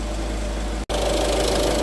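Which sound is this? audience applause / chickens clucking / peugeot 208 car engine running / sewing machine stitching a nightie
peugeot 208 car engine running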